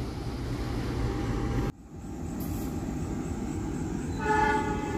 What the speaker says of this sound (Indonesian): Kereta api Mutiara Selatan persiapan melintas langsung jalur 2 jalur lurus stasiun Warung Bandrek